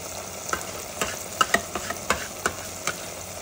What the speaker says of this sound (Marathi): सगळं मसाला आपण याच्यामध्ये बारीक वाटलेला घालूया